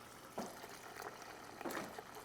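Homemade stock poured from one pot into another, a faint liquid trickle and splashing with a few soft surges of pouring, quiet and close.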